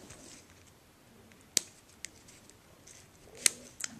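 Scissors trim the small antenna on a paper butterfly for a handmade card, giving a couple of crisp, isolated snips against a quiet room.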